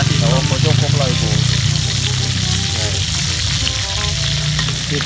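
Salted fish fries in a pan with oil, giving a loud, dense, continuous sizzle and crackle close up, while a person talks over it.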